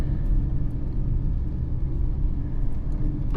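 A car's engine rumbles low and steady from inside the cabin while driving through Chennai city traffic, with faint road noise beneath and no talking.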